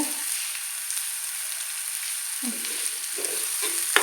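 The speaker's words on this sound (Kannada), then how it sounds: "ಇದಿವಾಗ ಫ್ರೈ ಮಾಡ್ಕೊಳ್ಳೋಣ ಚೆನ್ನಾಗಿ ನೋಡಿ ಎಷ್ಟು ಫ್ರೈ ಆಗಿದೆ" Onions and curry leaves frying in a pan give off a bright, continuous hiss, with a few soft, close stirring knocks toward the end and no voices.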